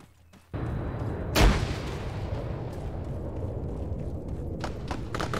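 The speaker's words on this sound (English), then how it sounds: "Throw frags into that fucking grass" Frag grenades go off in a military shooter game: one sharp, loud blast near the start, then a sustained rumbling roar of battle with further distant thuds toward the end.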